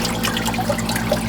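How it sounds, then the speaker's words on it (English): Water flowing past a turning water wheel that drives workshop machines, a steady close rush and trickle with a faint low rhythmic hum beneath. "they're being powered off that water wheel."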